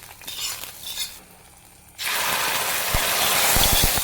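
Hot coconut oil tempering of mustard seeds, three dried red chilies, sliced shallots and curry leaves poured into a tomato pachadi curry, a loud sudden sizzle that bursts in halfway and keeps crackling after quieter stirring sounds.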